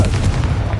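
A Confringo fire spell in Hogwarts Legacy erupts in a dense, rumbling blast that stays loud and close for under a second.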